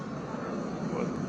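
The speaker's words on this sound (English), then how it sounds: "The plane caused my microphone to be too loud." A plane flies over a rally outside the White House in Washington, D.C., its engine roar loud and continuous, filling the whole stretch along with crowd and voice noise from the street.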